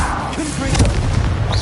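A Confringo fire spell explodes in a Harry Potter video game, giving a loud booming blast with a low rumbling tail and scattered crackle, close and forceful over a brief moment.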